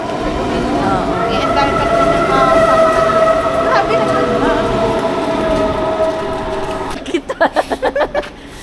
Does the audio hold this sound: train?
yes